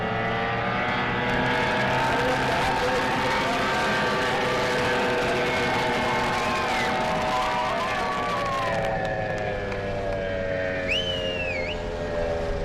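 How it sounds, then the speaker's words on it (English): Race cars run side by side in separate lanes on an outdoor track, their loud engines roaring steadily and rising in pitch as they accelerate, with faint crowd noise in the background. "Randy Williams on the outside lane. And we have a race."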